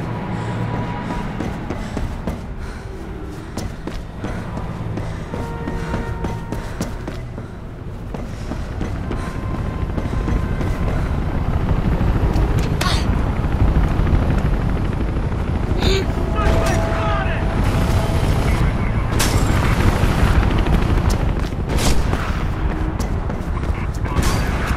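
Helicopter in the video game Mirror's Edge, a loud continuous rotor and engine roar that swells around the midpoint and stays dense and close, mixed with bursts of game noise and occasional voices.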